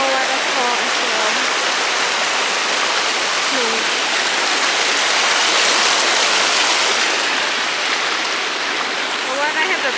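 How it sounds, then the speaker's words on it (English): A small, partly man-made waterfall pours into a flowing stream near a river in Luang Prabang, Laos, giving a loud, steady rushing hiss throughout, with birds faintly chirping in the background. "Like small waterfall as well."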